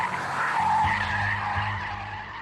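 Navara electric supercar drifting in rear-wheel-drive drift mode, tires skidding in a sustained loud squeal with a low electric motor drone beneath, close and continuous throughout.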